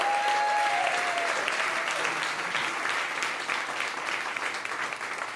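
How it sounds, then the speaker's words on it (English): A live audience gives a round of applause for House of SpeakEasy, with sustained, dense clapping that holds steady and only slightly eases toward the end. "if we can just do a round of applause for House of SpeakEasy"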